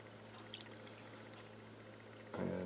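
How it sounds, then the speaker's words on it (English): Crabapple mead poured back from a glass, heard as a brief liquid splash and trickle near the end after a quiet stretch of low room hum. "And the rest I can pour back in."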